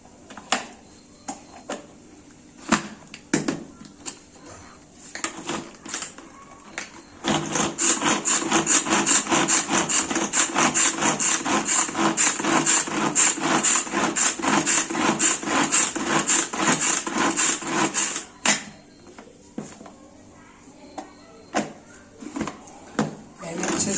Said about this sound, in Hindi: अच्छे से बारीक कर लिया है, इसको और चॉप्ड कर दूंगी